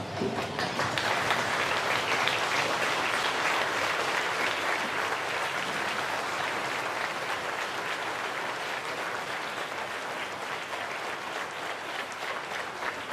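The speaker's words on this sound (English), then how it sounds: "please stand for a moment of applause for Rado Vidosic." Stadium crowd at an A-League football match between Newcastle Jets and Wellington Phoenix applauding in tribute, a dense, steady wash of clapping that fills the whole stretch at even loudness with no talk over it.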